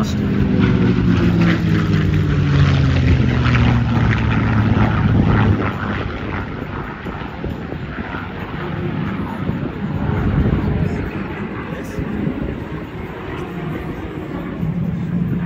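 A propeller fighter airplane flying aerobatic maneuvers drones with a clear engine tone that sweeps down in pitch, then turns into a broad, steady roar as it moves through the sky.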